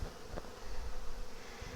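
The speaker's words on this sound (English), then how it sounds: "Look at all the bees flying around" Honey bees drone in a steady, close buzz around an open hive as a nucleus colony is moved into a double-deep box, with a few low thumps of equipment underneath.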